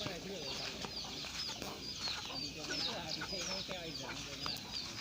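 Chickens on a small mixed family farm cluck and chirp steadily at close range while being fed, a busy overlapping chorus of short calls that continues throughout.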